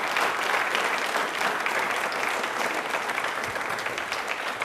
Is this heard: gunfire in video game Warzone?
no